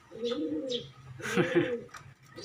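Pigeons, including a pair of white ones, coo softly at close range in a few short, rounded phrases with brief pauses between them, alone without any talk.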